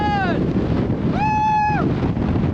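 Wind buffets the microphone as a hiker works down a desert canyon, a steady rough rushing roar throughout, broken by two brief high, wavering vocal tones.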